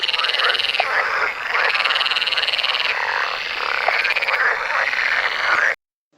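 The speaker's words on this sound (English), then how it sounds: "you might get to sight or hear a green and golden bell frog" Green and golden bell frog calling at the arboretum near Pearl Beach, a loud continuous pulsing croak-like chorus that holds steady for several seconds and then stops abruptly, with no talking.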